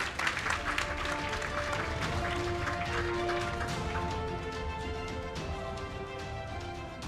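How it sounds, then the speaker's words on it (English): A round of applause from the audience at a panel discussion during a talent summit, steady clapping lasting throughout with a sustained tone or music underneath. "Round of applause for him, please."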